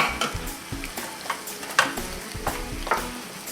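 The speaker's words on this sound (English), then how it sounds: "I've got some diced tomato here that's going to go in as well" Diced tomato tipped into a pan of frying homemade dog-food bolognese, a close sizzle with repeated stirring scrapes and light utensil clinks, no voices.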